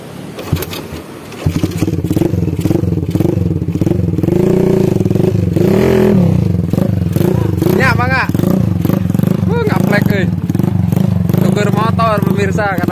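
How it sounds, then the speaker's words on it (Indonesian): A motorcycle engine idles and revs loudly nearby, its droning pitch rising and falling, while people talk over it. "jadi motornya ke sana pergi, saya pakai motor si jaburnya, itu si Bang Brang pergi."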